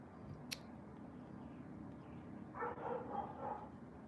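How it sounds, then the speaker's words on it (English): Several dogs barking indoors, a small cluster of yappy barks and whimpers building in the second half, somewhat distant and under a quiet room hum. "Sorry, those dogs won't shut up, but it's okay because they're cute."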